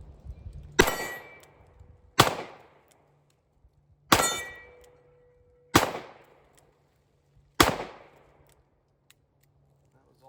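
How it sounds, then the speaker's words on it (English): A Kimber K6s revolver fires .357 Magnum rounds outdoors: five loud, sharp reports spaced about one and a half to two seconds apart, each with a ringing decay, and no talk between the shots. "let's see how 357 feels out of the K-6 S."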